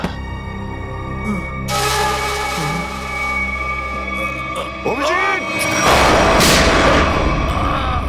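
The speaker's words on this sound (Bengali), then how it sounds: "দয়া, তোমার গুলি লাগলো?" Gunfire in a CID crime drama on TV, with booming shots that burst out over a tense, sustained musical score and effects.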